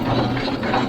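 A vintage one-cylinder engine with a heavy flywheel and gravity-fed fuel runs at a steady idle, a dense mechanical clatter close by, with no one talking.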